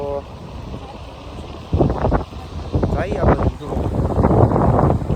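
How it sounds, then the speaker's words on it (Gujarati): Wind buffets the microphone with a low, steady rush while people talk close by, outdoors near water at a hilltop temple. "આ બાજુ મસ્ત મજાનો પવન આવે છે."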